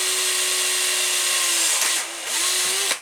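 A power drill bores slowly through a plastic RC car skid plate using a wood drill bit, a steady whine near and loud that dips briefly mid-way, then rises again before cutting off at the end.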